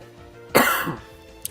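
One sharp, close cough bursts out from a gamer mid-commentary on Pokémon, a quick rough hack followed by a short trailing rasp, then a faint tick, with no talking over it.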